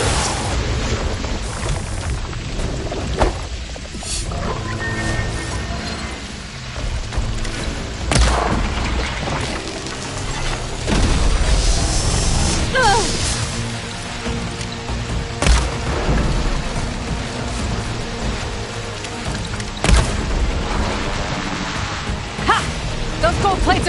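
Heavy artillery barrage in Horizon Forbidden West, with repeated booming blasts and rumbling impacts layered over dense battle noise throughout, loud and continuous with a talking voice over it.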